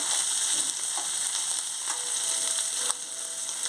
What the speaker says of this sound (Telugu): ఇందులో టమాటీ ముక్కలు వేసుకోవాలి ఒకసారి కలుపుకోవాలి